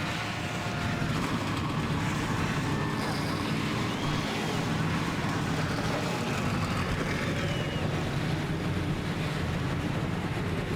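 Race car engines roar steadily in the NASCAR Racing 2003 video game at Darlington, a dense, continuous loud drone of many engines idling and revving together with no clear pauses.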